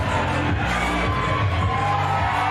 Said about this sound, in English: this lively crowd here at the Bierstadt on their feet, ready for an action-packed night of Charged